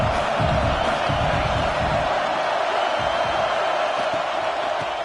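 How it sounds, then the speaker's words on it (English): A large football stadium crowd roars in a continuous, loud wash of cheering during the final minute of play, with faint shouts rising within the sustained noise. "Tremendous crowd atmosphere now in the final minute of play."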